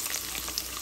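Chopped ginger sizzles briefly in hot oil with bay leaves and five-spice tempering for Bengali shukto, a soft, quiet hiss with no voices.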